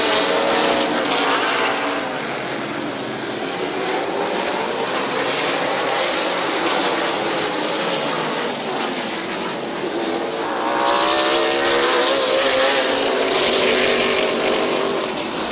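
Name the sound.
race cars driving around the speedway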